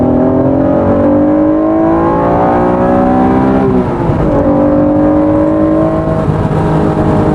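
A 1991 right-hand-drive JDM Honda NSX engine revving through VTEC, loud and close, its pitch climbing steadily, dipping briefly midway as a gear shifts, then climbing again, with no talk.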